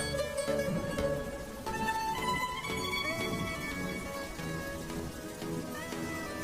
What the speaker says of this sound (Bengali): বৃষ্টির জল যে ভাতের হাঁড়ির মধ্যে পড়ছে